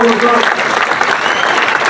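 Loud, dense clapping from a sizable audience at a promotion celebration in Talkatora Stadium, Delhi, sustained and steady throughout with no pauses.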